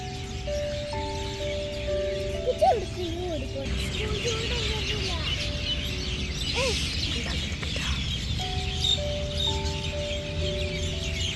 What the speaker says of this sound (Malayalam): പിന്നെ രാവിലെ തന്നെ ഉള്ള കിളികളുടെ ശബ്ദങ്ങളും